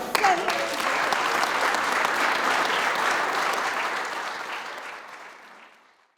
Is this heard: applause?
yes